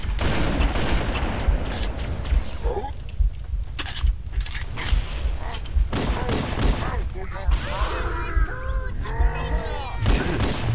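Turret gunfire in the shooter game Halo, continuous loud bursts of rapid fire with blasts and alien shrieks mixed in, and someone talking over the battle.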